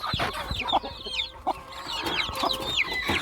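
Chickens cluck in a poultry cage holding about 21 young birds, with overlapping chirps and clucks arriving in irregular bursts, close and fairly loud, and no talking.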